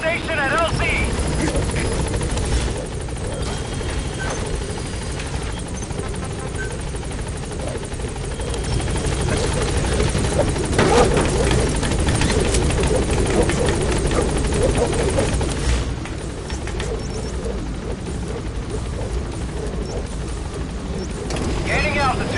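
The Pequod helicopter in Metal Gear Solid V approaches a landing zone, a loud, continuous rotor roar and engine rumble that runs throughout with only slight swells in intensity.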